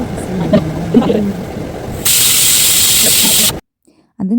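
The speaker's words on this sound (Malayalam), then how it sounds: "അതിനുശേഷം കുക്കറിൽ ഒരു 5-6 വിസിൽ" A pressure cooker used for beef fry hisses loudly, releasing a steady, strong jet of steam for about a second and a half after some faint kitchen background, then cuts off abruptly.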